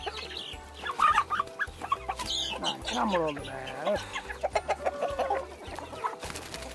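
Chickens and roosters cluck and call in a backyard coop with chicks, several birds sounding close by beneath a voice talking in Turkish.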